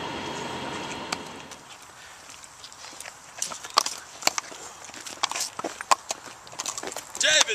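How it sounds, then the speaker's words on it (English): Horse hooves clip-clop in uneven, sharp clusters, loud and close, following a quieter stretch of rumbling ambience. People talk at moments throughout. "Control your horses!"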